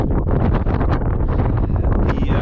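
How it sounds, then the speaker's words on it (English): Strong wind buffets the microphone out on a frozen lake during ice fishing, a steady loud rumbling roar with gusting swells throughout. "Very windy out here."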